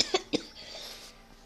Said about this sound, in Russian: что-то тут кашля нападает.